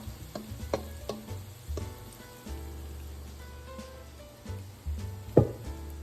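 Cornbread dressing sizzles and crackles in too much hot oil, a steady close frying hiss with sharp pops and a louder spatter near the end.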